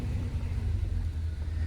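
The engine of a 1994 Ford EF Fairmont wagon idles on gas with a low, steady rumble, close and continuous.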